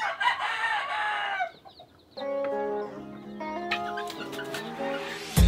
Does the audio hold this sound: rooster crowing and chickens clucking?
yes